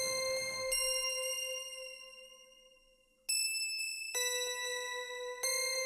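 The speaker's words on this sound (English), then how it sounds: "This is a weird kind of eerie bell" Eerie prefab chime bell tones in a dark trap beat ring out as sustained, harmonically rich dings, each strike fading slowly before fresh hits at about one, three and four seconds and near the end, with no voices.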